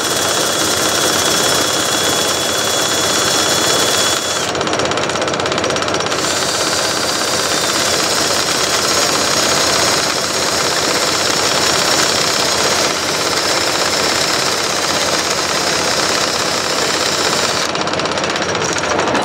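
A wood lathe turns a piece mounted on an offset chuck, a loud, steady, rough mechanical drone with rhythmic rattling throughout, shifting slightly in tone partway, with no talking.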